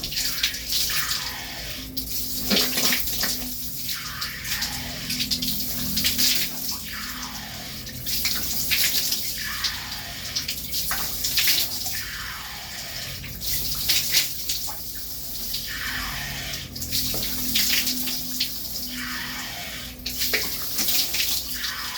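Water splashing repeatedly while someone rinses their face after washing with soap, rhythmic scooping and splashing strokes over a running tap, close and fairly loud with no talking.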